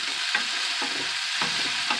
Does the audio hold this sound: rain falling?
no